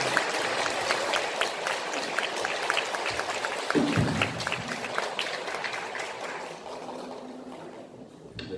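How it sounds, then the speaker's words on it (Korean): Audience applause following a Catholic confirmation lecture given by a priest, a dense, steady clatter of many hands clapping at once that runs the full length and eases slightly toward the end. "다시 한번 큰 박수 부탁드립니다"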